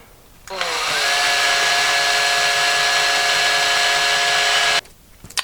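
A power drill whirs loudly and steadily at close range for about four seconds, drilling holes in a guitar with a drill guide, then cuts off abruptly.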